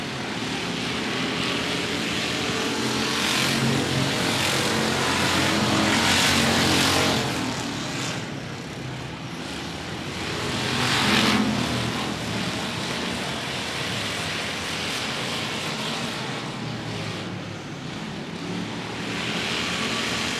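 Race cars roaring around a dirt speedway track, a continuous loud engine drone that swells and fades as cars pass, with no talk heard.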